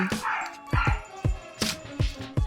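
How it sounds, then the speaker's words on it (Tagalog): A dog barks repeatedly in quick, sharp bursts, fairly close and loud, with no talking. "maingay na naman yung aso na kapitbahay"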